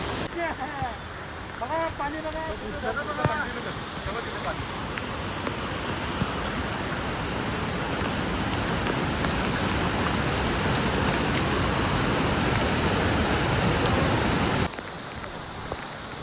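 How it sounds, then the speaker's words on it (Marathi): A monsoon waterfall at Tamhini Ghat roars as a broad, steady rush of falling water, close and even in level, with a brief voice near the start before the noise drops away at the end. "त्या ठिकाणी अतिशय सुंदर असा धबधबा होता"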